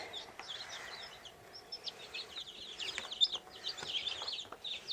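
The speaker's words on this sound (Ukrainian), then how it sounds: "Такі маленькі курчатка." Newly hatched chicks peep constantly in high, thin chirps, a busy cluster of soft calls close by.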